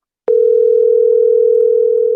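A telephone dial tone starts abruptly and holds as a steady, loud continuous hum while a call is placed to a high school football coach.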